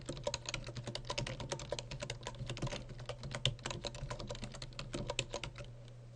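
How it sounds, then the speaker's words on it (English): Search terms typed on a computer keyboard, a steady run of close, rapid key clicks with a low electrical hum underneath and no voices. "You can go directly to the search entry box and type in the name of your organization or your search terms."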